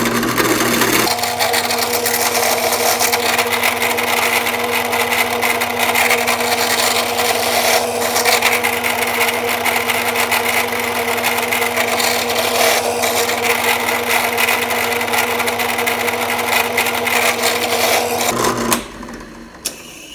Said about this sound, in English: Now I'll be drilling these to a depth of about 3/8 of an inch.